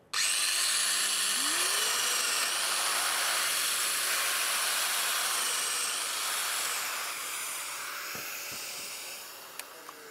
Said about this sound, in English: place the milling cutter on the workpiece, and mill the first hole.